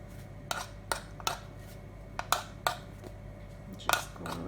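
Knife trimming around the crust of a vegan blueberry pie, producing a series of sharp, separate clicks and scrapes against a dish, irregularly spaced against a quiet background.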